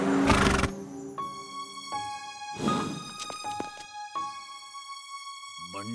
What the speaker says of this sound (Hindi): देखो बंटी ने हमारे घोड़े को टक्कर मारी है